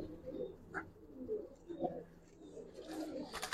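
Giribaz pigeons coo softly and repeatedly at a distance against a quiet, murky background, with a few faint chirps mixed in.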